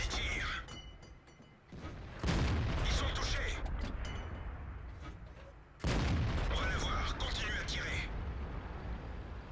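Tank cannon fire in World of Tanks from a Bat.-Chatillon 25t battle, with two loud booming shots about three and a half seconds apart, each followed by a long rumbling roar, under continuous game sound and a talking voice.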